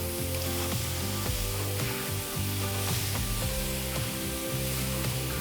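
Lemon and wine chicken thighs sizzle steadily on a grill, a dense unbroken crackle that holds at an even level throughout, with no voices.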